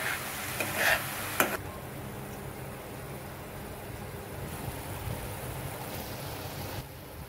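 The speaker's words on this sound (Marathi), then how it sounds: "हे मिक्स करून घ्यायचं चांगलं" Spring onion greens with turmeric are stirred in a pan, a few soft scrapes and knocks early on followed by a faint, low sizzle.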